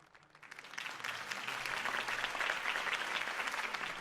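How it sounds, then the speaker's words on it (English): Applause from a campaign rally crowd in the video game Batman: The Telltale Series swells up quickly and holds as a dense, steady clapping roar. "could have heard that applause"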